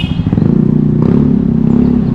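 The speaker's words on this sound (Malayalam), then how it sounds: "വെസ്പോ പോകുന്ന സ്കൂട്ടർ, അതിൻ്റെ സൗണ്ടാണ് കേൾക്കുന്നത്" A Vespa scooter passes nearby at a street market crossing, its small engine putting out a loud, steady buzzing putter with some rattling for a couple of seconds.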